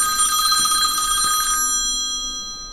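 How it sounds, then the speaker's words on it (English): A telephone rings indoors with a steady electronic bell tone, a sustained ring that cuts off partway through, fairly loud and close with no talking over it. "The phone rang as soon as I said right now is a go time for crypto."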